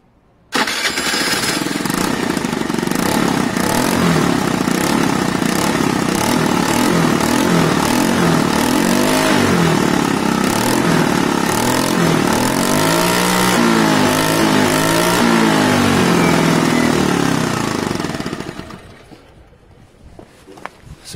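Piaggio Fly 125 scooter with an exhaust in need of replacement starting up and revving, a loud, close, buzzing engine note rising and falling for about eighteen seconds before cutting off to quiet.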